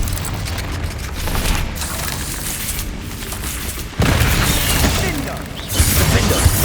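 A Confringo fire-blast spell goes off in Hogwarts Legacy, with a sudden booming burst landing amid dense game noise and a continuous roar, followed by more rumbling blasts.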